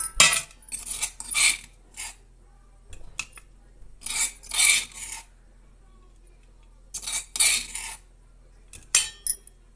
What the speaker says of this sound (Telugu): ఇలా దంచుకున్న తర్వాత ఇందులో మళ్ళీ వెల్లుల్లిపాయలు, కరివేపాకును వేసి దంచుకుందాం మొత్తం